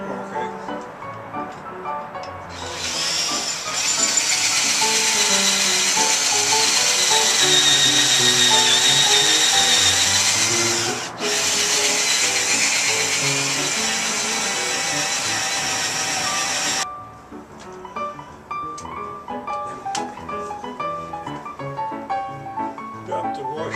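Power drill after a repower, its motor whining loudly and steadily for about fourteen seconds with one brief dip, then stopping as quieter handling and talk continue.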